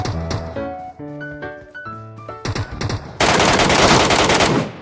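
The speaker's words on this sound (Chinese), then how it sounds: "反正就是到处捣乱，这不豹子那儿又有枪声了吗？" Gunfire erupts in the mobile shooter's Metro escape mode. A series of short electronic game tones gives way to a loud, sustained burst of rapid automatic fire at close range.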